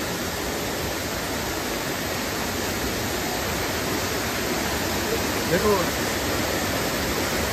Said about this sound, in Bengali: আমরা এখন রয়েছি সোকসান ওয়াটারফলে।